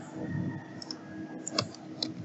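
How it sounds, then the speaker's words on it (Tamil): A few sparse, quiet clicks of keys tapped on a computer keyboard while text is entered for a movie poster design, with short gaps between presses and no talk. "நம்ம வந்து டைப் பண்ணிடுவோம்."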